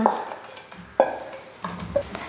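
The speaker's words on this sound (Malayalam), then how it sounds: "ഇനി ഇതിലേക്ക് നമുക്ക് പനീർ ഇട്ട് കൊടുക്കാം" Paneer dropped into masala gravy in a pan, with a few distinct clanks of a utensil against the pan and soft stirring scrapes between them, close and fairly quiet.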